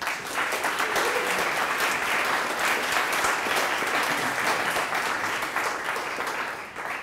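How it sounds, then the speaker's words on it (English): An audience claps for a panel at a talk on digital accessibility, sustained dense applause from many hands filling the room for several seconds without a break. "let's give a round of applause for the panelists"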